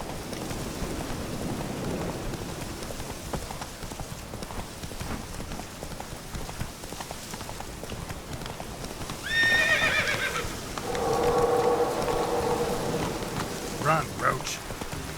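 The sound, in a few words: horse Roach galloping in rain, from The Witcher 3 video game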